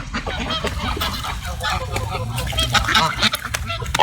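Goose honking up close in a busy outdoor scene, repeated raspy calls mixed with quacking fowl and a person talking and shouting over them.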